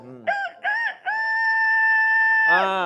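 A voice imitates a rooster crowing, with short rising calls leading into a long, sustained, loud crow at close range.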